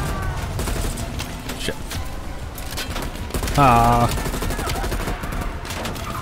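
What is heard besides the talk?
gunfire in Call of Duty Cold War video game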